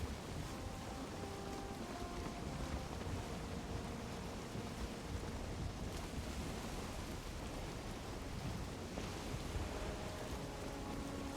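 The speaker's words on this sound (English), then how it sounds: "the wind's changing direction" Wind in the video game Valheim blows as a dense, steady roar with a broad rumbling wash, unbroken and even in level, and no voices over it.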